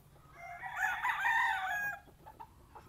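A young gamecock rooster, about five months old, crows once in a cording area, a clear and fairly close call lasting over a second, with faint clucks and other birds around it and no talk.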